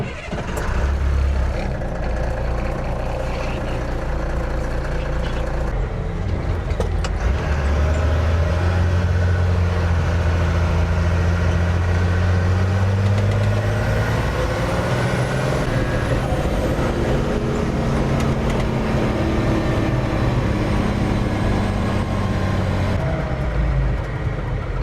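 An M35 Deuce and a Half military truck on a test drive, its engine a loud, steady diesel rumble throughout with gear changes and a brief hiss like an air brake, heard close with no talking.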